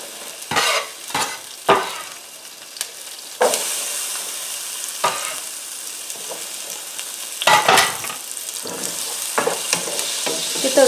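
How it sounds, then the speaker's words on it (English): Peppers sautéing in butter and oil hiss in a steady close sizzle, broken by sharp intermittent stirring scrapes against the pan. "I'm going to go ahead now and start having my pepper saute down."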